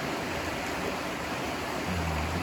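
Trout Creek runs nearby as a steady, broadband rush of flowing water, even and unbroken, close and fairly loud, with no voices over it.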